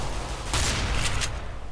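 Gunfire in Counter-Strike: Global Offensive, a short burst of several rapid shots over low game background noise.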